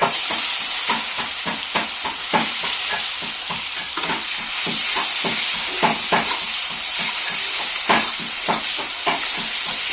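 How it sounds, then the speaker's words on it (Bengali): Onion frying in oil for a dry fish curry gives a loud, continuous sizzle and hiss, broken by rhythmic scraping strokes as it is stirred in the pan. "আর এখানে ওই তেলে আমি একটু পেঁয়াজ দিয়ে দেবো।"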